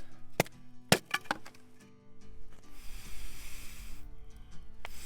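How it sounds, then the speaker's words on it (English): Water trapped inside damp wood sizzles and hisses on a struggling campfire outdoors, a soft breathy hiss swelling after a few sharp cracks and knocks. "You can hear the water inside the wood sizzling"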